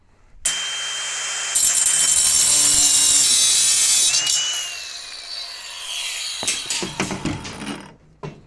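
A 4.5-inch diamond rim wheel with relief cuts grinds into a concrete slab during a shop build, giving a loud high whining cut that swells, then tapers off into scraping and rattling knocks near the end.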